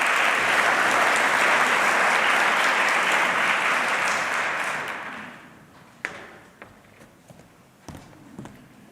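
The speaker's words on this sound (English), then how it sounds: "please give Jake a big round of applause" Loud, dense audience applause for an artist at a talk session, sustained for about five seconds, then fading to scattered claps and small knocks.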